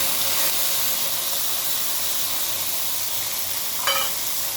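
Two cans of Century tuna in oil sizzle steadily in a hot pan with okra, a constant close frying hiss with one brief clatter of a utensil near the end.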